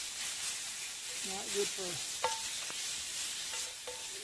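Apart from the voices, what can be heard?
food sizzling in a pan, campfire cooking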